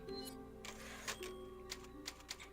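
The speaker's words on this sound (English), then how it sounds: "I'm just going to run straight to the typewriter, which is in here, and I'm going to end this session" Typewriter save sound in Resident Evil 4: a short burst of quiet mechanical key clacks and ticks with a few sharper strikes, heard alone over a faint background hum.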